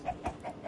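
A Minecraft chicken gives a few short, faint clucks in quick succession, close by and alone.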